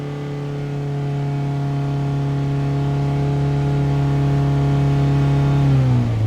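A Toyota Camry engine holds high RPM with a steady tonal drone, then the pitch drops near the end as the revs fall; the engine has a lean fault and loses power.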